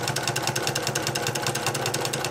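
A sewing machine chain-piecing quilt pieces runs in a steady, fast rhythmic whir with regular needle beats, close and continuous throughout, with no talking.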